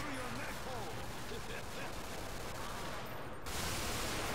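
Rapid gunfire crackles in the video game Call of Duty World at War, custom zombies mode, as dense bursts of shots run continuously over a busy mix of game noise, with voices in the background.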